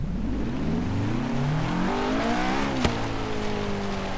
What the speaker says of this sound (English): here we have the Honda S2000, and you can hear that it also has VTEC